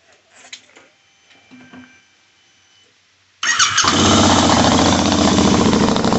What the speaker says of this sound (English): it's got a pretty mean, throaty sound